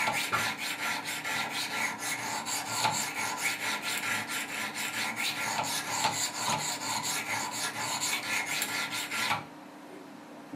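A Spyderco Paramilitary knife being sharpened on a Wicked Edge sharpener, giving close, rapid rhythmic rasping strokes of stone on steel that run steadily for about nine seconds and then stop.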